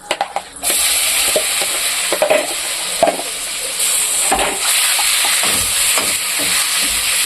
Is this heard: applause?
no